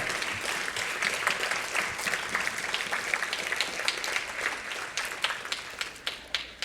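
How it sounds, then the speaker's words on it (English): Audience applause honouring Christy, who stands to be recognised; dense, steady clapping from a roomful of people, moderately distant and even, with a few sharper individual claps near the end. "I want Christy to stand at this time so that everyone can just applaud her"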